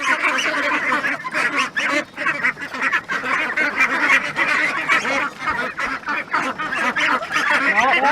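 Ducks and geese honk and quack close by in a loud, continuous, overlapping chorus of calls with hardly a pause.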